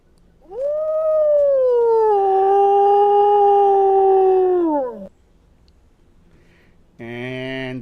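A loud, sustained canine-style howl sound effect rises, holds and slides downward for about four seconds. After a short quiet gap a second howl begins.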